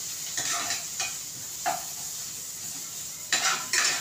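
Green masala paste fries in a village-style chicken curry, a soft steady sizzle broken by several scraping stirs of a spoon against the pot, close and fairly quiet with no talking.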